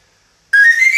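A single clear, bright tone from a large pan flute pitched an octave higher starts abruptly after a moment of silence and holds steadily, breathy and close.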